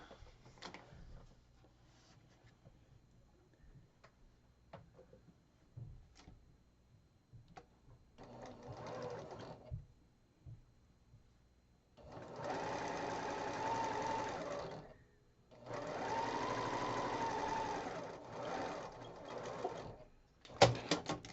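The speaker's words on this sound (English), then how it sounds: "I'm going to sew on that line that I just drew." A sewing machine stitches along a drawn line on a 5.5-inch quilt square for a Christmas quilt block, running in several close, steady bursts of stitching with quiet pauses between them and no talking.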